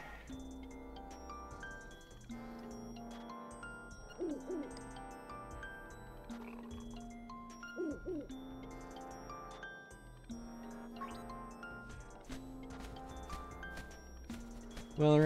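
Owl hooting in The Legend of Zelda: Link's Awakening (2019, Nintendo Switch), a few short pitched hoots rising over a soft chiming game melody that plays throughout.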